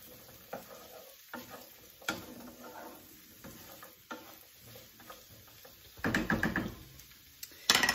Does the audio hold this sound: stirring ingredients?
yes